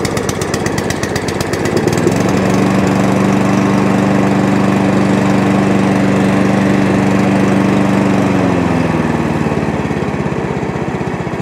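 A Mountfield petrol lawn mower fitted with a Chinese copy carburetor runs loud and close. The steady engine drone holds a constant pitch, then drops to a lower idle near the end.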